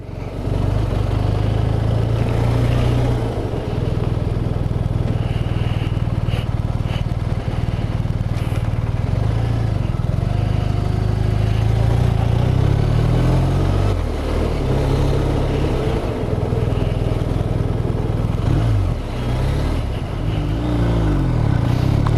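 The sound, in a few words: BMW R1250 RT motorcycle engine riding and accelerating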